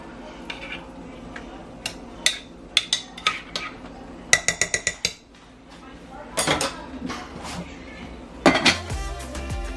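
A spoon knocks and scrapes against a pot while food with brown sugar is stirred, giving bursts of quick metallic clinks and taps with short pauses between, close and clear with no talking.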